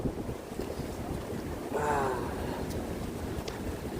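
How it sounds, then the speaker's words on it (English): Strong wind at Brooklyn Bridge Park roars and buffets the microphone in a continuous low rumble, with a brief tonal whine rising out of it midway. "It's a very windy day today."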